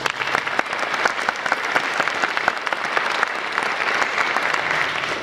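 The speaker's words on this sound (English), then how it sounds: "Give these guys a round of applause." An audience at a jazz camp concert claps steadily and warmly, a dense, even patter of many hands close by that carries without a break, with no speech over it.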